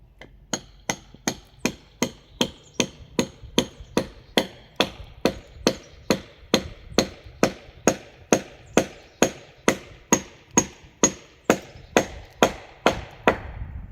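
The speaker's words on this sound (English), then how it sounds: "Let's try to hammer this in." A steady series of sharp hammer blows striking a nail into wood, roughly two per second, close and loud with nothing else going on.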